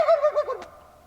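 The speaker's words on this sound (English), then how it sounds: "Oh my gosh, birds are firing off over here." Wild turkeys gobble at dusk in Washington turkey country before the hunting season opener: a short burst of loud, rattling gobbles that quickly fades, with no other sounds over it.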